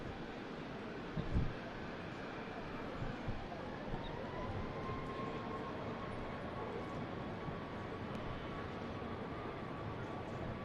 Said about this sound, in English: Next in is this EasyJet.